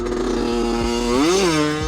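A tuned moped engine revs hard through a wheelie, its buzzing note climbing and then dropping back in a steady, loud, close-up whine with no talking.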